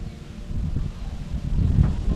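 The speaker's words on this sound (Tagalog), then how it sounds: "Yan mahangin-hangin siya mga maninay." Wind blowing outdoors in the Philippines on a hot day, a low, rumbling gusty rush buffeting the microphone, steady and swelling slightly toward the end.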